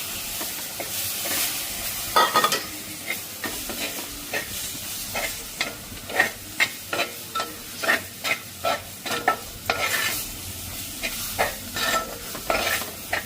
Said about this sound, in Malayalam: നന്നായിട്ട് ഇളക്കുകയാണ്